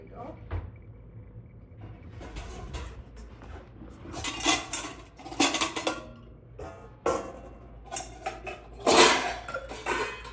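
Dishes and pots clatter in a home kitchen as someone hunts for a bowl: scattered clinks, knocks and a cupboard bump, moderately quiet with faint murmuring in the background.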